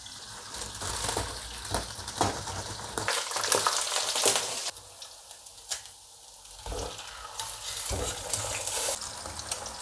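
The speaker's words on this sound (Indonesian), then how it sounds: "Tiga kali goreng ya." Food fries in a pan with a close, busy sizzle and frequent stirring scrapes, loudness surging and easing as ingredients are moved around, with a watery gushing texture at times and no talking.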